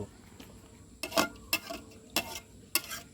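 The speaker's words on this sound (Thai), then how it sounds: "คนไปหน่อยครับผม" Intermittent scraping clatter of a utensil stirring a pot of soup, four short strokes over a low simmering background, fairly close and moderately quiet.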